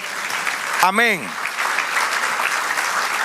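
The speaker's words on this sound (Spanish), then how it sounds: "Dale aplauso al Señor." A church congregation applauding, a steady wash of clapping throughout with a single voice briefly speaking over it.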